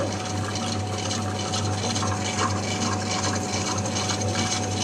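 A wet grinder drones steadily with a low motor hum and churning, sloshing texture as soaked lentils are ground for idli batter, continuous and fairly loud, with no voices.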